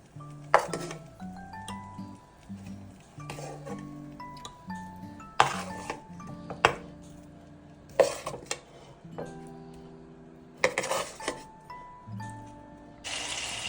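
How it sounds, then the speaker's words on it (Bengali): Fried potato pieces being spooned onto meat in a cooking pot for kacchi biryani: a series of sharp metallic scrapes and clinks of a spoon against the pot, spaced out over quiet background. "এবার ভাজা আলুগুলো উপরে দিয়ে দিব মাংসের উপর।"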